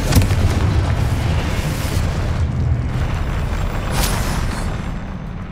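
Confringo fire spell blasting in Hogwarts Legacy, a loud rumbling explosion with sustained roar and crackle, a sharp burst at the start and another flare near the end, no talk.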